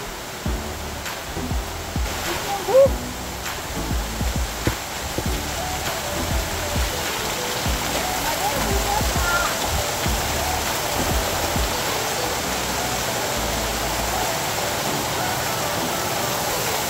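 A monsoon waterfall on a trek via Ganesh Ghat to Bhimashankar rushes as a broad, steady roar of falling water, continuous and moderately loud, with some faint background voices and movement.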